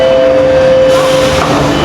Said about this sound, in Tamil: எப்படி மெட்ரோ போகுது ரெயின் போகுது